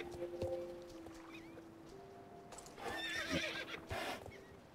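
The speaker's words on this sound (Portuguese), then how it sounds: "eu gostei do cavalo" A horse in the Star Stable Online video game whinnies clearly twice, with clip-clop hoofbeats and watery splashing sounds around it, no talking.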